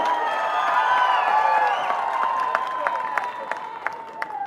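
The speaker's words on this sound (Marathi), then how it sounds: "एकदा जोरात टाळ्या वाजूयात" An audience at a public election rally in Sinnar applauds, a broad crowd wash with cheering and murmured voices, then distinct sharp claps start to stand out toward the end.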